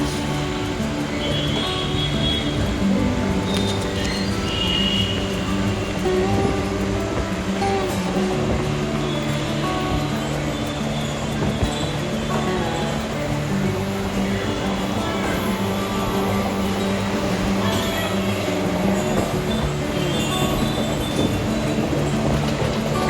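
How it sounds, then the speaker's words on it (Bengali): A local train rumbles steadily across a bridge over the Damodar river, with loud continuous wheel and carriage noise, rhythmic rattling and occasional metallic squeal, heard from inside the moving train. "শহরের মধ্যে দিয়ে প্রবাহিত দামোদর নদী, যেটা ট্রেনে করে এক্ষুনি পার হচ্ছি"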